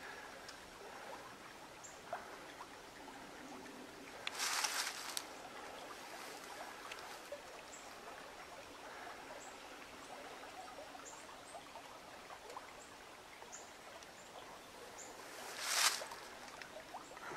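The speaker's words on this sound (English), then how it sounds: "I'm sure you guys can hear that rock behind me in the river." Faint, steady rushing of river water flowing over rocks runs throughout at night, quiet and distant, with a couple of brief louder splashy bursts.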